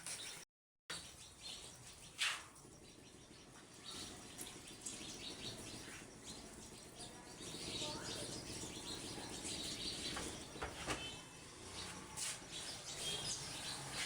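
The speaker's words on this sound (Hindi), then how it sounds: "चिड़िया मुझे देख के ना चहचहाने लगती है" Small birds chirp and tweet around a home in short, scattered calls over steady background noise, with occasional sharper bursts; a faint voice is also present.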